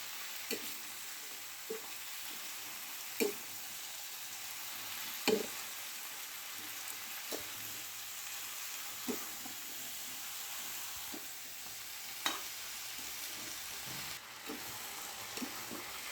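Mixed vegetables with chopped spinach and salt sizzle gently in a pan for a Bengali labra curry, with soft steady frying hiss and occasional light clicks of a spoon stirring, no voices.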